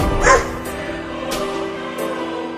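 A cartoon dog barks sharply a few times in quick succession, loud and close against a steady background music bed.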